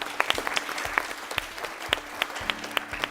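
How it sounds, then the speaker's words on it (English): Audience at a quiz show clapping, a sparse round of distinct, crisp hand claps from a small group, fairly close and even, with a faint hum behind. "Let's clap for them."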